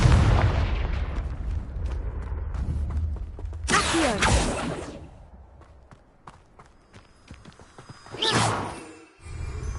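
Confringo blasting-spell explosions in the Hogwarts Legacy game burst as deep booming blasts with crackling debris, one big blast midway and another near the end over steady rumbling footsteps and battle noise, loud and close.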